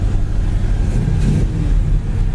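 A 1966 Chevrolet Chevelle engine idles and hums steadily up close, a low continuous rumble with a slight swell partway through.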